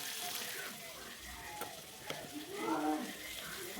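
Raw pumpkin and slit green chilies sauté in a hot pan, a steady close sizzle with faint stirring scrapes and soft clinks, no talking over it.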